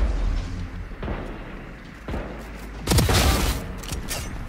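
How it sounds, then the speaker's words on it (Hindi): A bomb goes off in a video game as a rumbling boom and crackling burst over dense, steady game noise. "अरे ऐसे ही बम पड़ गया"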